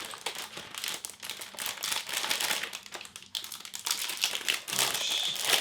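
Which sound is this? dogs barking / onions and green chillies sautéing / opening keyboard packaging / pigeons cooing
opening keyboard packaging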